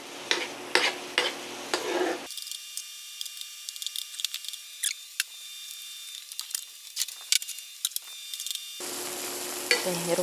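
Tofu simmering in a braising sauce in a pan gives a steady bubbling sizzle, louder and busier at the start and end, with a quieter stretch in between marked by a faint steady tone and light clicks.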